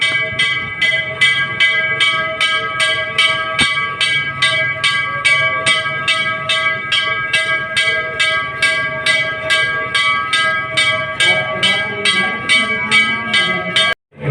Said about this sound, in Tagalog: Kaya ganyan po ang tunog ng kalembang ng kampana.